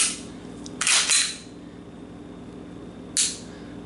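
A pistol's trigger resets with a faint click, then a single sharp shot cracks out, followed about two seconds later by a second brief, bright shot, each loud and close against a quiet background.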